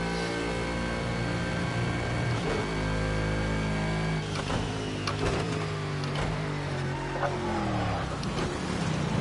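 Racing car driving in the video game Gran Turismo 7, its engine note rising and falling through braking at a chicane, a continuous loud mechanical roar with shifting pitch and no talking.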